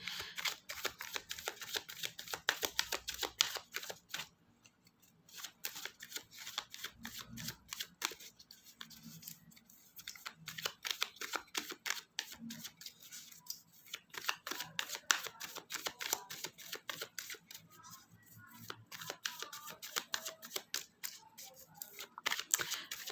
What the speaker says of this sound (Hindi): कार्ड्स को अच्छे तरीके से शफल करेंगे